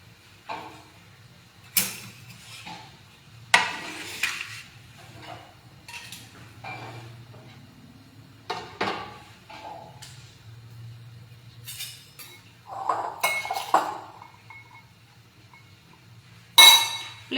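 While khichdi and a sizzler are plated on cabbage leaves, dishes and cutlery clink and clatter in scattered, sharp bursts close by, separated by quiet pauses, with a faint low hum underneath.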